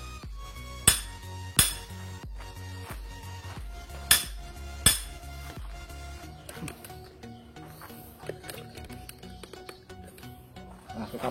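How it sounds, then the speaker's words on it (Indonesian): A large hammer strikes a metal ground rod being driven into the ground, four sharp ringing blows spaced irregularly, followed by quieter clinks and scraping as the rod is worked. "Kita pakai alat bantu palu yang agak besar."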